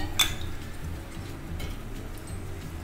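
A single sharp metallic clink near the start as a lid is set onto a cooking pot, followed by quiet kitchen background.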